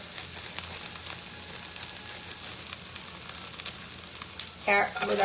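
Lo mein noodles spread out in a hot wok give off a steady, close sizzle, with a brief sharper clatter of cooking near the end.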